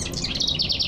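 Birds chirp in a city setting during spring migration, a dense run of bright, high tweets repeating quickly and fairly close, with no talk over them.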